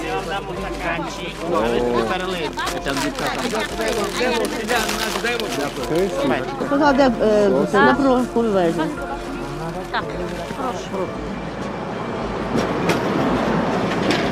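A tram in Ukraine rumbles along with rhythmic clattering of wheels on track, while people talk nearby over the steady rolling noise.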